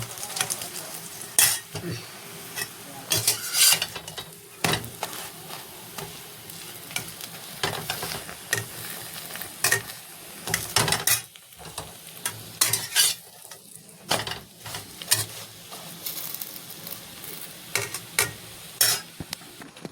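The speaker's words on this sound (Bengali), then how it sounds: "কড়া বসিয়েছি এতে আমি এখন ভাজবো আমি একটা একটা করে পরোটা ভাজি" Parathas fry in a kadai with a continuous, close sizzle, accompanied by frequent clatters and scrapes of utensils against the pan.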